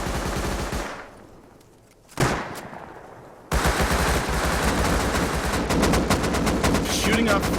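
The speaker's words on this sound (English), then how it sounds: "Shooting off flamethrowers and all kinds of celebrations going on here at the end" Flamethrowers roaring and rapid gunfire in the survival game Rust during an end-of-match celebration, a dense loud barrage that drops off briefly and then surges back into continuous roaring bursts.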